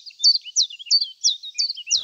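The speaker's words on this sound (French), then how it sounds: "Les Anglais l'appellent Chiff Chaff, un nom qui rappelle bien son chant." A common chiffchaff sings a clear, rhythmic series of high chirping notes, about six evenly spaced repeated phrases in two seconds, close and alone against a silent background.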